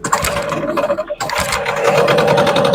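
A Hangkai 12hp outboard motor runs nearby with a steady buzzing, rapid pulsing drone, loud and close, with a brief dip before settling into an even idle.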